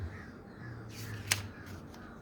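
A single faint crow caw rises briefly over a quiet, hissy background.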